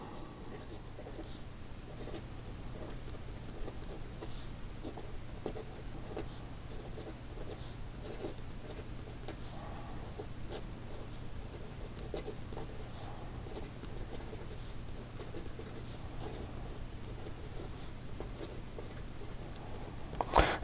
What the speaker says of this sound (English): in regard to some fast writing, it has no issues in keeping up.